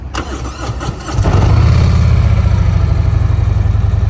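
A 2021 Harley-Davidson CVO Tri Glide trike engine with Cobra slip-on exhausts cranks and fires up, then settles into a loud, throaty, pulsing idle through the exhaust, close by.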